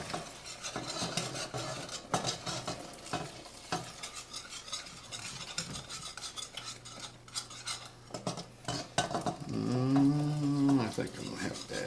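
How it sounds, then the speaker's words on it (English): A utensil stirs warmed milk into a mac and cheese sauce in a pot, giving soft, irregular scrapes and clinks at close range, with a short humming tone near the end. "I'm going to add this slowly while I"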